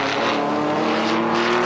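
A McLaren GT race car at Jarama roars past close by, a loud sustained engine howl filling the whole brief moment.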